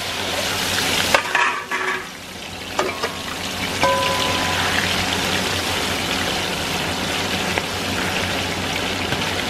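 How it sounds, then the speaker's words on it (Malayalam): Chicken fries in hot oil for biryani, the oil already used for frying onions and cashews, giving a steady, close crackling sizzle with a few stirring clanks near the start, no voices. "ചിക്കൻ ഒന്ന് ലൈറ്റായിട്ട് നമുക്ക് ഫ്രൈ ചെയ്തെടുക്കാം"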